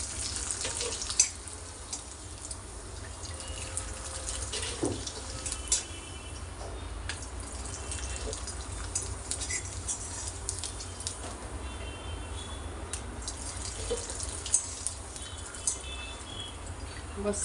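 Homemade papad frying in hot oil in a kadhai: a steady, soft hiss and crackle with scattered small pops, running continuously at moderate level under occasional speech.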